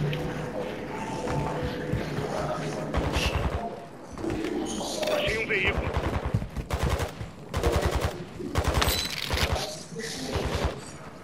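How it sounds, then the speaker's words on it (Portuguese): Gunfire in the video game Warzone crackles in rapid bursts and single shots throughout, mixed with game effects and voices speaking over the action. "Tem cara atirando."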